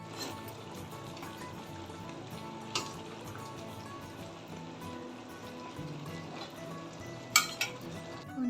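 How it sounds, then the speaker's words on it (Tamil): Mustard seeds and cumin sizzle in hot oil for a Pongal dish, a steady faint frying hiss with a few sharp clinks of a utensil against the pan and a brief louder spatter near the end. "ஆயிலில் கடுகும் சீரகமும் சேர்த்தாச்சு"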